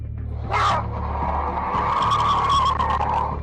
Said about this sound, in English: The hooded man yells at the car's window as it passes, and the driver races off in complete terror